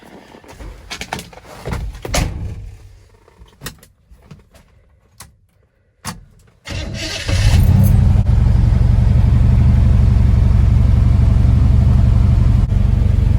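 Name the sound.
1974 square body truck engine running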